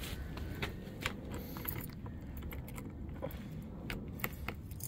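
A set of keys jingles and clinks in short bursts near the microphone while someone checks for the right key to a backyard shed on an autumn cleanup day, with a low outdoor hum underneath.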